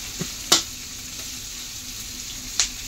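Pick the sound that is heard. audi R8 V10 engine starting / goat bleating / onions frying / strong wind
onions frying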